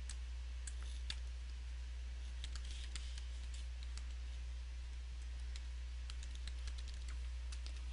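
Fingers type on a computer keyboard during data entry into an Access 2013 form, a close run of quick, uneven key clicks and taps over a low steady hum.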